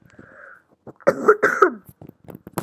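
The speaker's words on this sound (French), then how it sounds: "J'ai une petite toux là." A man coughs in a few harsh, close bursts, with a faint throat-clearing sound before them and quieter breathy rasps trailing after, and no talking over it.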